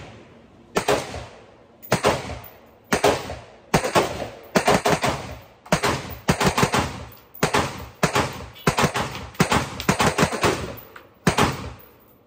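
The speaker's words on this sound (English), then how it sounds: "Being that this is a semi-automatic rifle, I thought we should do a mag dump." A Ruger Mini-14 Ranch semi-automatic rifle fires a magazine dump of about eleven loud, sharp shots. They come at a steady, roughly one-second pace, each with a short echoing decay outdoors.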